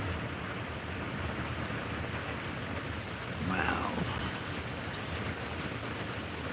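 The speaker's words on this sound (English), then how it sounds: "The thunder's getting louder. The rain's harder." Heavy rain and gusting wind roar steadily through a severe thunderstorm under a tornado warning in southeastern Oklahoma, a dense, continuous wash of noise with a brief exclaiming voice partway through.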